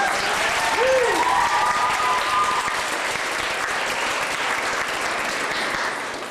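Audience applause for students at a wish-granting event in Toronto, steady and sustained clapping from a crowd, with a brief voice audible over it near the start.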